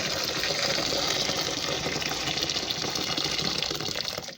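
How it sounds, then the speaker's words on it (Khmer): Hot water poured steadily onto leafy vegetables, a continuous close gushing splash that tapers off at the end. "ចាក់ទឹកក្តៅ"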